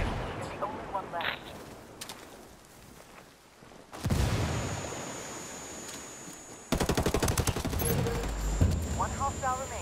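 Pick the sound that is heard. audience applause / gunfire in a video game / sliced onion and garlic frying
gunfire in a video game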